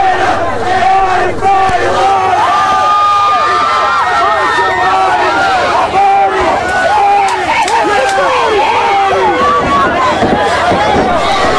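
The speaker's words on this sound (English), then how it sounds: "Crowd's starting to get a little bit rowdy." A rowdy crowd shouting and yelling at an outdoor MMA fight in the rain, loud and dense throughout with many overlapping voices.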